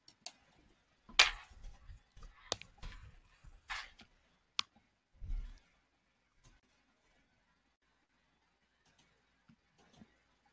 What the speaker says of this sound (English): I'm just typing out some answers to questions and then deleting them